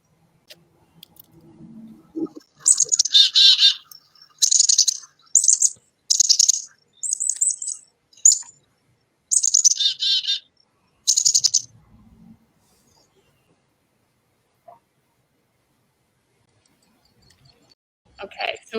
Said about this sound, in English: if you guessed the Massachusetts state bird, the black-capped chickadee, then you guessed correct